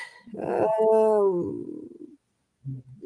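A dog lets out a long, tonal, whining growl that swells and then fades, followed by a short pause and a brief low grumble, close and fairly loud.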